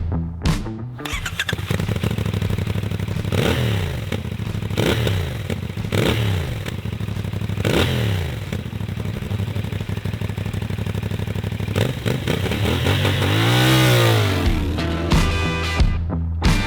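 A CFMOTO 450 NK two-cylinder naked motorcycle rides past with a steady engine drone, rising and falling through several gear-change sweeps, loud and close, with a swelling pass near the end and no talk.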